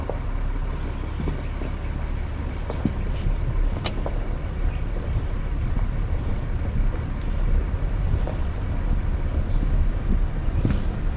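A vehicle pulls away and drives down a rural cottage road, a steady, moderate engine and tire drone heard from on board, with no talking.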